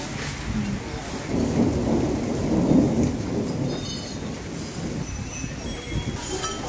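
A windstorm with thunder and rain in the Kumaon hills near Almora, Uttarakhand, as a continuous broad roar of wind and rainfall, with a low rumble of thunder swelling in the middle and fading, no voices.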